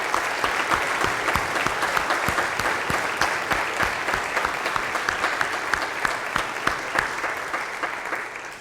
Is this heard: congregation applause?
yes